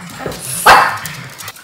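A dog gives a single sharp, loud bark close to the microphone, over quiet indoor background rustle.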